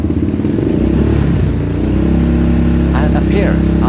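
A KTM Duke 690 R single-cylinder motorcycle engine pulling through the gears, a loud steady drone rising in pitch, with a voice speaking over it.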